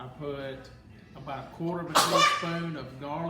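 A person sneezes once in a kitchen during a fried bream and hushpuppies cooking session, a short sharp burst partway through, surrounded by steady talking.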